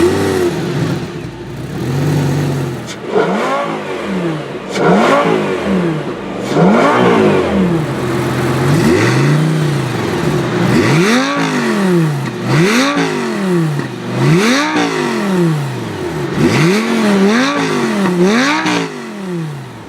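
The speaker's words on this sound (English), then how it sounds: "I have a V10 Lamborghini and I haven't revved it yet" A V10 Lamborghini is revved while parked in the California desert, with a rapid series of loud, close throttle blips, each climbing and falling in pitch in a steady rhythm. No talking.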